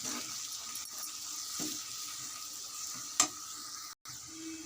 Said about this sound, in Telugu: మొత్తం అన్నీ కలుపుకుంటున్నాను బాగా.